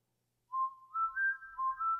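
A man whistles a few clear, pure notes of a tune, alone and close with no other sound.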